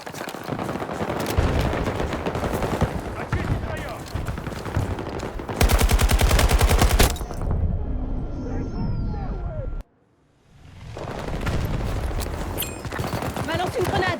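Rapid automatic bursts from an SFAR-M rifle in Battlefield 2042 Breakthrough mode, loud sustained fire with other battlefield gunfire and a brief near-silent gap before the shooting resumes.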